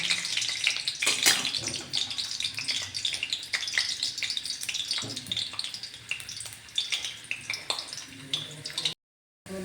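Garlic cloves frying in a pan, a close bubbling sizzle with scattered pops and spatula scrapes, a brief quieter voice in places, cut to silence near the end.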